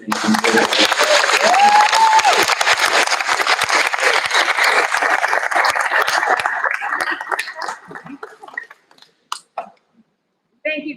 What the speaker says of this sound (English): Can we give a round of applause for everything she's doing?